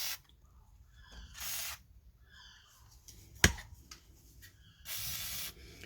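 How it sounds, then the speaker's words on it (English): Penetrant fluid sprayed onto the torque bolts during a Mondeo mk3 rear bearing and ABS job, heard as several short close hissing bursts separated by quiet gaps and a sharp metallic tap. "I'm going to give them all a bit of spray,"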